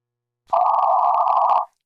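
A ham radio amplifier being tuned on the 40-meter band gives out a steady, loud single tone that lasts about a second, begins and ends abruptly, and stands alone in silence.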